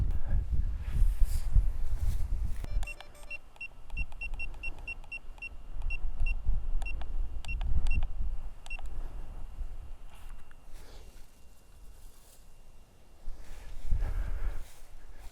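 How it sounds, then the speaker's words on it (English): A DJI Neo drone's ESC beeping function sounds as a run of short, high, evenly spaced beeps that fade partway, over wind rumble and gusts outdoors in grass. "I found you thanks to the ESC beeping function"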